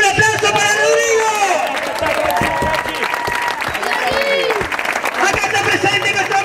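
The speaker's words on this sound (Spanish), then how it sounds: "¡Un aplauso para Rodrigo!" A crowd gathered for Rodrigo applauds and cheers loudly, the clapping mixed with close, excited shouting voices throughout.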